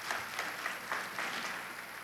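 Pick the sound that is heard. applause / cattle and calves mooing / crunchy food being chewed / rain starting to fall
applause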